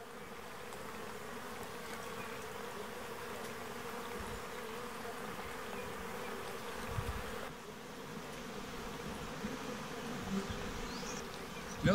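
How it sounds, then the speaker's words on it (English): Bees buzz steadily around a nest beside water on a wilderness hiking trail, a continuous close drone with insects passing near and away throughout. "Here's the bee nest, and the water is right next to the bee nest."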